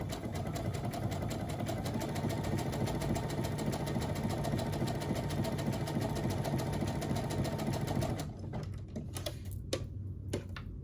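A sewing machine stitches a seam in a rapid, steady clatter for about eight seconds, close and loud, then stops, leaving a few scattered handling clicks.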